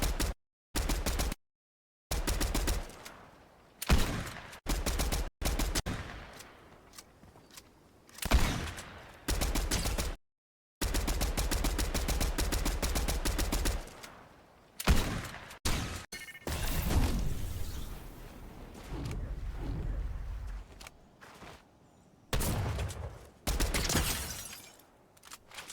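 Gunshots in the Fortnite video game: loud rapid bursts of gunfire and crashing impacts in irregular clusters, broken by short silent gaps, with dense firing throughout.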